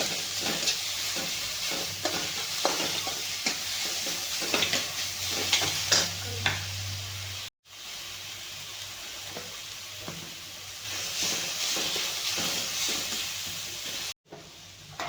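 Chili, garlic and ginger paste fries in oil with a steady, close sizzle broken by occasional stirring scrapes, and the hiss drops out briefly twice.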